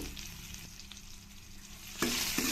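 Green chilies, crushed garlic and curry leaves fry in hot oil for rasam, a steady close sizzle with soft stirring scrapes, swelling louder near the end as more goes into the pan.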